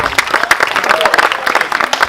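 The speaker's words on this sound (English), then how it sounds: "Can we give a round of applause to the Kings, who are so kind enough to be here?" Crowd at a football awards evening clapping for honoured guests, a fairly loud burst of individual, uneven handclaps from a modest group rather than a smooth roar, lasting about two seconds.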